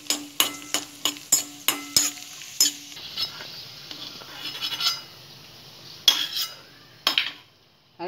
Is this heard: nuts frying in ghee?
yes